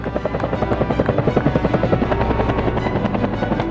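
Army attack helicopter in flight during night live-fire rocket and 20mm gun training at a firing range, its rotor beating in a steady loud rhythmic thump with a constant engine whine, close and alone.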